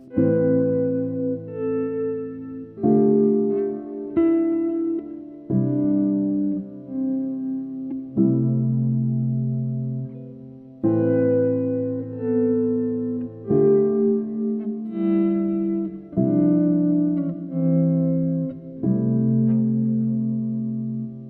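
Electric guitar chords ring out in slow, spacious changes, each one smeared by a long delay and a wide reverb tail, with no voices.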